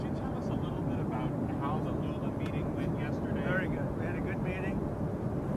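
Steady, loud airplane engine roar and wind rumble at an airport as Trump boards the aircraft, continuous throughout with voices talking underneath.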